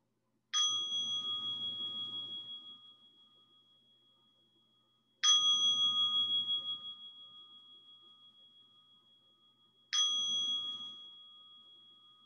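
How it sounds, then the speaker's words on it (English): A meditation bell struck three times at an even pace, each ring bright and clear with a long fading resonance, alone in a quiet room with no talking. "And now invite three sounds of a bell just to communicate that we're beginning."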